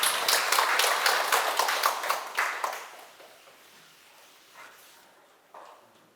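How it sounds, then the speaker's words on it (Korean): Audience at a Sunday lecture bursting into applause, a dense flurry of claps loud at first then thinning out and fading away within about three seconds, followed by near quiet with a couple of faint stray sounds. "큰 박수 부탁드립니다."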